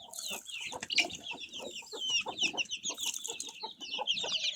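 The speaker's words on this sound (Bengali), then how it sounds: "মুরগিগুলো যখন ছাড়ি আমার মনে একটা আনন্দ পায়, কারণ এই যে মুরগিগুলো দৌড়াদৌড়ি খেলাখেলি মারামারি কিলাকিলি লাগে থাকে" Chickens released from their coop cluck, squawk and squabble as they run about, a dense, lively chorus of overlapping calls close by.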